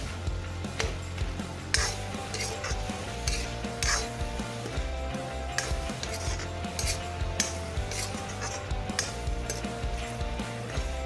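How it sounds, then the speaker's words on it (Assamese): Broiler chicken pieces salted and stir-fried with tomatoes in a pan for an Assamese chicken curry, with a steady sizzle, repeated metal clinks and scraping of a spoon against the pan, and a faint tonal hum underneath. "এতিয়া বিলাহীখিনি গলি নোযোৱালৈকে ভালদৰে এইদৰে লৰাই ভাজি দিছোঁ"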